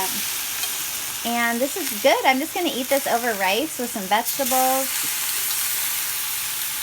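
Crispy tofu pan-fries with tamari soy sauce, a continuous sizzle running beneath a person talking close by.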